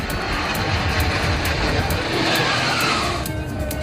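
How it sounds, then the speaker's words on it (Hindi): Surya Kiran aerobatic jets trailing tricolour smoke roar overhead in a loud, continuous, rushing engine blast that holds steady for several seconds. "तिरंगे के रंग का धुआं छोड़ते विमान जैसे गर्व और गर्जना दोनों को हवा में बिखेर रहे थे"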